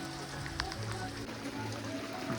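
Heavy monsoon rain falls steadily in a Konkan village, a dense hiss with patter on surfaces, continuous and fairly close, with faint voices and a low engine drone underneath.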